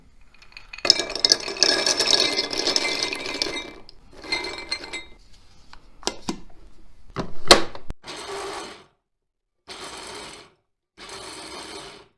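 Hazelnuts ground in a food processor: loud whirring, rattling bursts of blade and nuts churning against the bowl, a long first run followed by several shorter pulses separated by brief silences.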